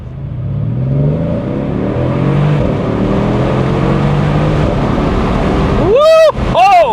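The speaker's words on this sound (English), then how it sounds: "you guys can hear the exhaust on this thing because it's absolutely beautiful." A 2016 Mercedes S63 AMG's engine and exhaust drone steadily under wind and road noise with windows down, then a sharp rising rev near the end, followed by quick repeated revs.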